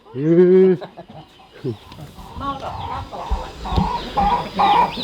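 Chickens cluck and squawk nearby, with a loud call at the start followed by scattered clucks amid farmyard noise.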